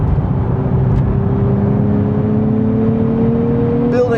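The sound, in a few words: 2027 Nissan Z Nismo accelerating on a track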